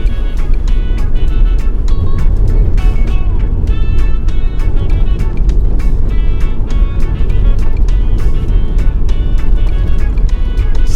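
A car drives along a bumpy road in Jamaica, its engine and road rumble loud and continuous from inside the vehicle, with rattling knocks scattered throughout.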